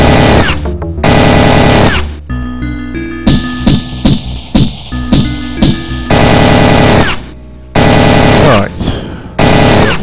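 Gunfire in the video game Syndicate, loud chattering bursts that stop and start across the clip, mixed with sharp electronic tones and clicks, with no talk.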